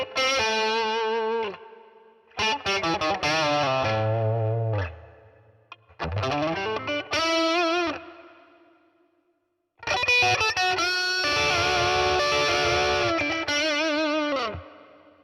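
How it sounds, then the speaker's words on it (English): Boss Katana MKII EX amp on its plexi preset played with a Les Paul guitar: overdriven, crunchy chords and single-note phrases in several bursts separated by short pauses, loud and close, alone with no talking. "So this is a plexi sound, and I think it sounds really great with Les Paul."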